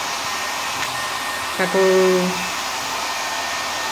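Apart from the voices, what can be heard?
small travel hair dryer running on low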